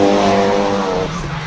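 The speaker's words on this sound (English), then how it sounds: "Nice big angle initiation, fires that car up onto the wall" Charlie Hume's drift car in British Drift Championship Pro-Am qualifying at Buxton, on a partly wet circuit, screams loudly at high revs through a big-angle slide, tires squealing, before the engine note drops abruptly.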